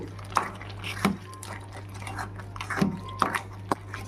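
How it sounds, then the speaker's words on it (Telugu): A spoon stirs sweet payasam in a pot, with scattered scraping and clinking knocks against the metal rim over a steady low hum, each strike brief and close. "ఇంకా మనం తిప్పేసుకుందాం."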